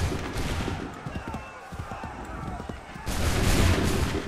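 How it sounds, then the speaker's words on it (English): Muskets fire in a ragged volley in Assassin's Creed 3: scattered crackling shots give way to a loud, dense burst near the end, with battle noise and voices in the background. "Open fire."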